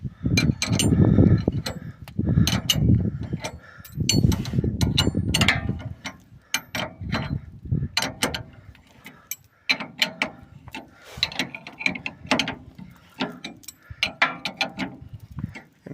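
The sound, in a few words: ratchet wrench and car jack being worked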